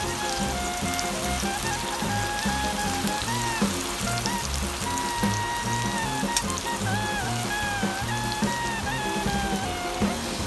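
Onions fry in hot oil for birista with a dense, constant sizzle and crackle, steady and close, with faint music playing underneath.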